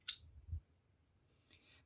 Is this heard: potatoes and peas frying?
no